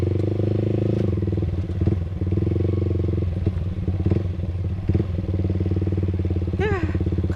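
A Yamaha R15 V3 motorcycle fitted with an R9 H2 series aftermarket exhaust runs loud and close, holding a steady throbbing engine note with crackling pops and brief throttle blips, with faint voices in the background.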